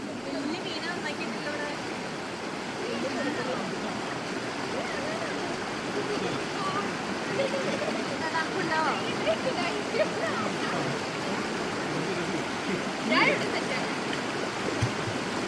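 The Kabani river in Wayanad flows with a constant rushing wash of water while a group wades and bathes in it, steady and close, with faint voices and splashes now and then.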